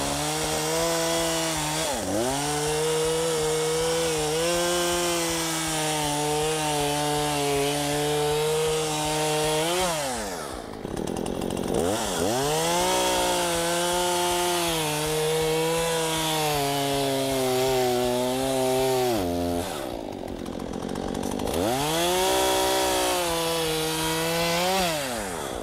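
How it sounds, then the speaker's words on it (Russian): A petrol household chainsaw, one of the Husqvarna, Oleo-Mac or Stiga models, cuts through wood with a loud, steady high-revving whine that briefly drops and rises twice between cuts, close and continuous. "пилу мы знаем теперь, как запускать, можно испытать ее в работе."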